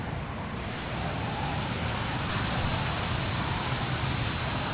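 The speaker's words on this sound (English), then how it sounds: "and they'll just taxi down to take off" A military airplane in the Arma 3 game taxis toward takeoff with a continuous, close, droning engine roar over a wash of broadband noise, steady throughout and with no voices.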